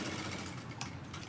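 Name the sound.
sewing machine stitching piping with lining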